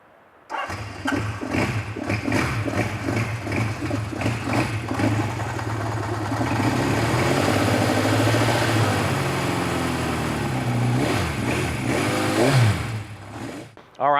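Vintage motorcycle engine cranked over with a few chuffs, then catching and settling into a loud, steady, throbbing idle close by that lasts over ten seconds, with a brief rev near the end.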